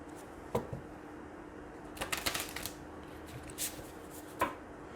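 Faceted Garden Oracle cards are shuffled in a quiet room, with a few soft isolated riffles and a brief cluster of quick flicking snaps in the middle.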